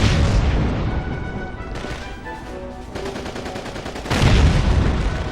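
.50 cal machine gun firing in Call of Duty 2, loud rapid bursts of heavy gunfire with booming reports, easing briefly midway before a powerful burst resumes near the end.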